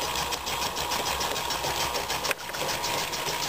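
A Brunner air compressor motor runs steadily while building pressure, a constant mechanical hum and whir with a brief dip partway through, close and fairly loud with no talking.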